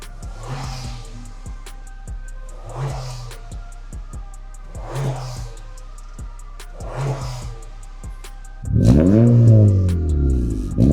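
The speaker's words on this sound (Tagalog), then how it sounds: "naka-full exhaust na using our products, Borla XS Pro tsaka si Borla exhaust tip" A Honda Civic FE with a full Borla XS Pro exhaust and Borla tip pulses in several slow, deep throbs, then bursts into a loud, rising rev near the end.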